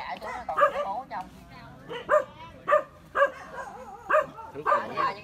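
Phu Quoc Ridgeback dogs barking repeatedly in sharp, evenly spaced yips and barks at close range, mixed with someone talking over them.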